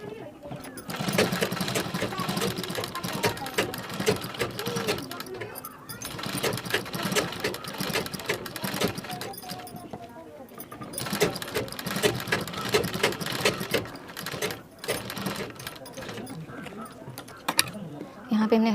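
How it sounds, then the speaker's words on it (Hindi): A sewing machine runs in a continuous fast rattling stitch while a blouse sleeve is sewn, with brief slowdowns and someone speaking over it. "अब इसी तरह इस साइड भी सिलाई लगा लेंगे हम।"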